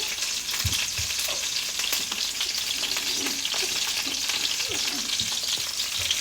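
Sausages fry in a pan on a kitchen range, giving a steady, close, even sizzle and crackle throughout with occasional soft clicks from stirring or utensils, and no voices.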